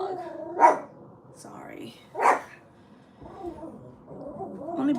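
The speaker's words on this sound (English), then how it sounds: "Oh my goodness, my dog." A dog barks twice, loud and close, with someone talking between and after the barks.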